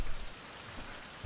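Rain falls steadily in the survival game Survival Fountain Of Youth, a constant hissing patter with no voices over it.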